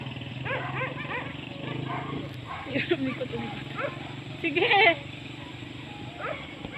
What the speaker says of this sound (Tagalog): So may mga aso doon, ayun oh.